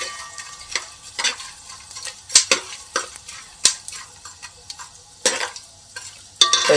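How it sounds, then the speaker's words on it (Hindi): Edible gum (gond) frying slowly in oil on low heat for winter laddoos, with sharp crackles and scraping spoon strokes popping out at irregular intervals over a quiet background, close by and without speech. "तो इसी तरह से सारे गोंद भी हम फ्राई कर लेंगे।"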